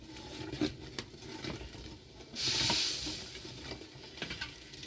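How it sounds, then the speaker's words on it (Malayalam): Rice boils in a pot over a lit hearth, giving faint, close bubbling with soft irregular pops and a brief hissy surge midway. "തിളച്ചുകൊണ്ടിരിക്കുകയാണ് ഇടയ്ക്കിടയ്ക്ക് നമ്മൾ ഇങ്ങനെ ഒന്ന് ഇളക്കി കൊടുക്കണം"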